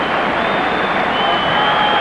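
A stadium crowd at a 1997-98 Champions League football match between Parma and Sparta Prague claps steadily for a substitution, a loud, dense wash of applause with no break and no voices standing out.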